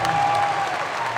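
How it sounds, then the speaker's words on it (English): Crowd at a college basketball game between Fairfield and NC State bursts into loud, dense applause and cheering that fills the arena and holds steady throughout. "a big cheer from the crowd here"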